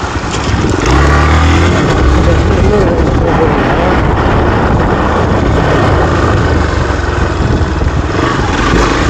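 Xpulse 200 motorcycle riding on a broken road, its engine droning loud and steady throughout with rough, rumbling low-end noise, while a voice talks over it.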